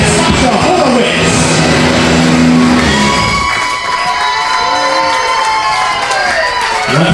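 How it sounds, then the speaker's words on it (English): Wedding guests cheer and shout over loud crowd noise in a park, a dense burst of voices and whoops that fades into lighter, scattered applause and chatter. "A nice round of applause."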